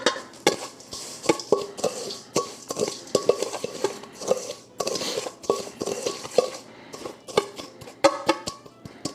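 Meatball ingredients mixed in a bowl, with irregular clinks and knocks of a utensil against the dish and soft stirring sounds, fairly close.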